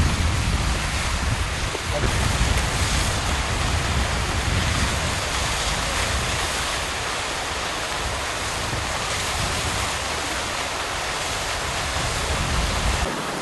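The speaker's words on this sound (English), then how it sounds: "I'll just get the waterfall." A waterfall's rushing water pours out a steady, close, full-bodied roar that stays unbroken from start to finish, with no voices over it.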